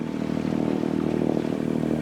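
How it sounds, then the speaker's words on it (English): A small sailboat's auxiliary engine runs after starting at sea, a steady low mechanical chugging drone, moderately loud and alone, with no talk over it. "reluctantly I've had to start the engine"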